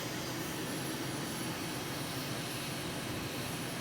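Steady, loud jet engine roar heard from the cockpit of an Aermacchi MB-339 in Microsoft Flight Simulator over the Bolivian Andes, a constant broadband whoosh with a faint high whine and no changes.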